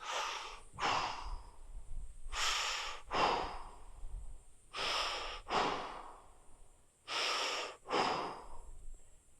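Four slow, deep breaths taken close by during a lower-body fascia stretch for the hips, knees and legs, each a long airy inhale followed by an audible exhale, evenly spaced with quiet gaps.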